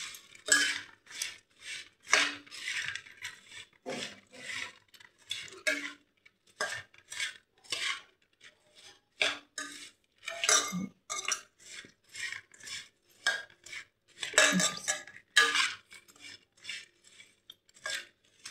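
A spoon or hand tossing puffed rice with green chili, salt, oil and onion in a metal bowl, giving a quiet, irregular run of dry rustles and light scraping clinks.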